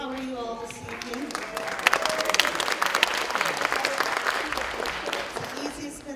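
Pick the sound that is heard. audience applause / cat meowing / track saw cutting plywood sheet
audience applause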